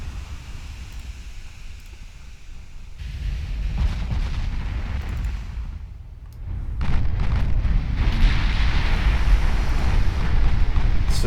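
Torpedo hits exploding against a warship in Ultimate Admiral Dreadnoughts naval battle, heavy rumbling blasts that swell and roll into a louder, sustained roar, with no talking.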